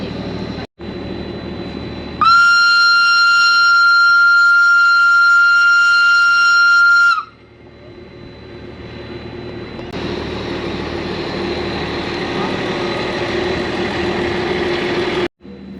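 Pikes Peak cog railway train, a loud steady horn-like tone that holds for about five seconds and then cuts off, followed by a deep engine rumble and whirring running gear that swell up and continue close by.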